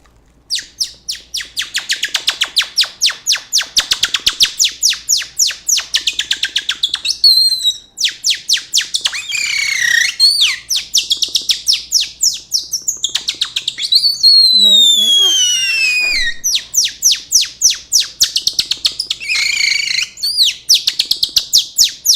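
A man imitates a songbird's call with his voice, producing rapid trains of sharp, high whistled chirps and sliding tweets in repeated bursts, loud and close, separated by brief pauses.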